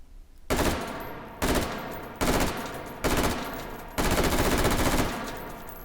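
An ACR rifle firing full auto in a VR shooting game, five loud sustained bursts of rapid gunfire separated by short pauses, close and without talk.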